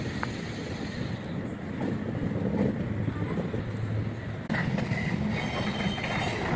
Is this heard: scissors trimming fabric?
no